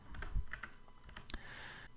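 Computer keyboard keys are tapped in a quiet room, a quick irregular run of light, close clicks with no voices.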